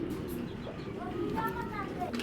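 Soft cooing of racing pigeons nearby, low rounded coos repeating over a quiet background.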